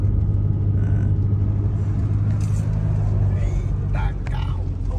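A car rolls past on a road, a steady low engine rumble with a faint swell of tire noise, moderately close and continuous under background chatter.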